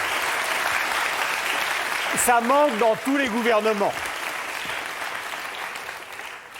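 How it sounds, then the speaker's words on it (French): Studio audience applause on a French music TV show, steady throughout while someone speaks briefly over it. "Vous pouvez applaudir le ministre du rock'n'roll"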